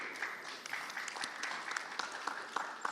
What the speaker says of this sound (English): Can we have a big applause for Dr.